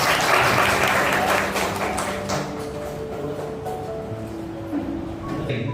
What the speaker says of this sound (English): Please sir, give a big applause first.